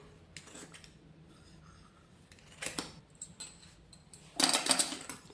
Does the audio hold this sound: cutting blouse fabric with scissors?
yes